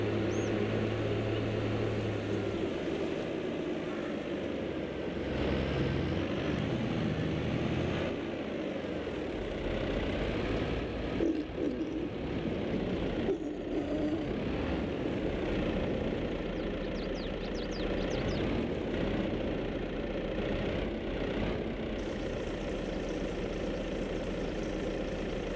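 A farm vehicle in Farming Simulator 22 drives over to the pigs, with a steady loud engine drone and low rumble that holds from start to finish.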